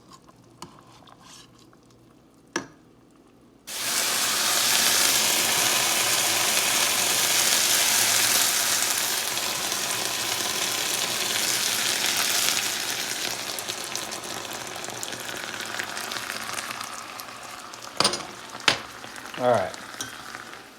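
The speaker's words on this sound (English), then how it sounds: "I'm gonna ladle in some of our broth." Broth is ladled into a hot pan of árbol chiles, erupting into a loud, steady sizzle that settles into a bubbling simmer, with a few clanks and brief remarks from a man at the end.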